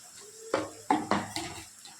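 Spice paste stirred in a kadai for chicken curry, four or five distinct scraping knocks of a spatula against the metal pan, close and fairly quiet, with a faint sizzle between strokes.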